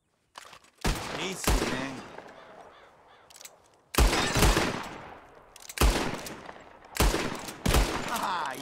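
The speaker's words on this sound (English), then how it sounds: "Whoever shoots more of these bottles wins. Just draw your gun and aim when you're ready" Revolver shots ring out in pairs and singles from a bottle-shooting contest in the video game Red Dead Redemption 2, sharp and loud with echoing tails, and a man mutters briefly between the shots.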